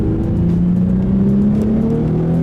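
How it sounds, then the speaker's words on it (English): Nissan 350Z HR engine pulling hard on a mountain pass, a loud steady engine drone heard from inside the car with the pitch climbing under acceleration. "would you mind putting your foot down so we can actually hear and experience this car?"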